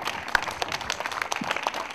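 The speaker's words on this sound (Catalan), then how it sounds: "Un fort aplaudiment per a ella" A crowd applauds a runner at a women's five-mile race ceremony in Valldoreix, a dense patter of many hands clapping nearby, steady and moderately loud.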